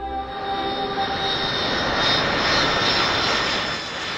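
A steady airplane engine drones in flight, a loud continuous hum with tonal whine, heard alone without talk.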